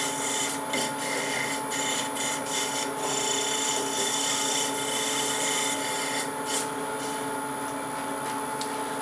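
A skew chisel on a wood lathe slices a spinning workpiece in a close, steady, continuous shaving hiss with faint scraping texture, carrying on without a break and no talk.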